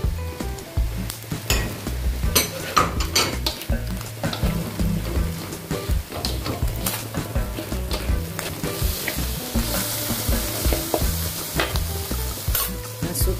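Onions sizzle and fry in a pan while being stirred, a steady loud crackle broken by frequent scraping and clinking of the utensil against the pan, with no talking.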